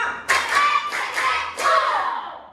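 Schoolchildren in a classroom clap together in a counted routine, five sharp, closely grouped bursts of claps sounding at a steady beat, fairly loud and near, with no talking over them.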